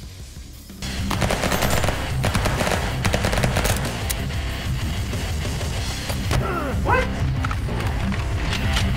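Dense, loud gunfire from the VR game Hard Bullet, bursts and single shots overlapping throughout with thuds and clatter, filling the whole clip.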